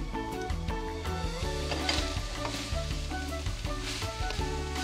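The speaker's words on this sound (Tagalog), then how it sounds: "isi-sear natin siya. Pagba-brown muna natin yung ating mga shredded na chicken" Shredded chicken searing in a hot pan, giving a loud, continuous sizzle and crackle with occasional stirring scrapes. A low musical hum runs underneath and no one speaks.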